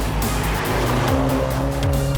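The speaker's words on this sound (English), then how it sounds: "the sound isn't bad either when you're nailing it like this." A 2019 BMW 1 Series engine revs hard under full acceleration, a loud, continuous rising drone with tire noise, heard from close by without any talking.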